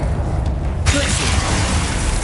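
A Glacius ice spell is cast in Hogwarts Legacy on PS5: a sudden bright, crackling burst about a second in, then a sustained icy hiss and shimmer over low game rumble.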